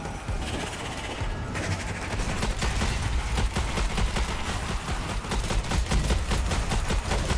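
Gunfire from the video game Strange Brigade: dense, continuous rapid shots like a sustained fusillade, loud and close, with no gaps across the whole stretch.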